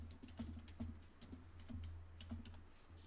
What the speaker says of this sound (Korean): 이제 본격적으로 본문 내용을 다 입력하도록 하죠